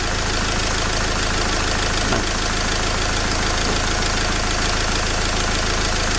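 Dacia Logan dCi diesel engine with Delphi injection idling close by, a loud, steady, even clatter that holds unchanged throughout.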